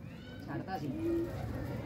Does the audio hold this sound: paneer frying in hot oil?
no